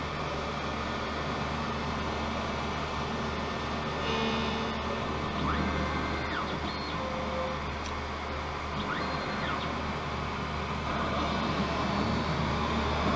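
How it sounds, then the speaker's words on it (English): A lens edger cuts a bevel onto a prescription sunglass lens for a Versace frame, making a steady mechanical grinding hum with a few faint whirring shifts, continuous and fairly quiet throughout. "Now it's applying the bevel onto the lens."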